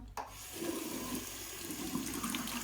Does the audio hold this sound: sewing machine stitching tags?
no